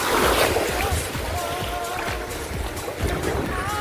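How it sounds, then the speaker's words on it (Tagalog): Ocean waves wash ashore at a beach resort in Nasugbu, Batangas, heard from about 20 meters away as a steady, fairly loud broadband roar with soft surges and a light breeze. "Sarap ng alon."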